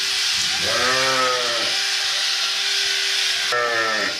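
Sheep bleat close by, a couple of wavering calls over steady outdoor noise, with a pause between them.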